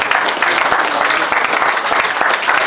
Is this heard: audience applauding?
yes